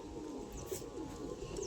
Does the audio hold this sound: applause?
no